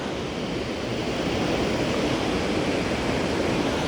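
Choke Creek Falls in Pinchot State Forest, Pennsylvania, rushes in a steady, broad wash of water, loud and unbroken throughout with no voices.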